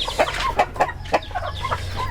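Country chickens cluck repeatedly on a poultry farm, short close calls in an uneven rhythm over a low steady background hum.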